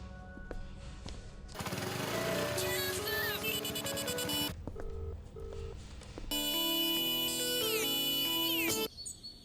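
A phone ringing during a call, a series of electronic ring and tone bursts, bright and synthetic, starting and stopping in loud blocks with short quiet gaps between them and no talk over them.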